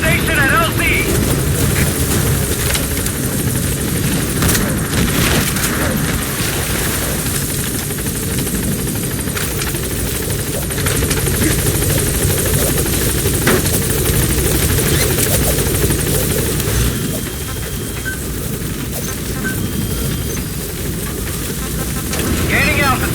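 A support helicopter from Metal Gear Solid V sets down at a landing zone, its loud rotor chop and engine whine steady and close, with radio voices speaking over it.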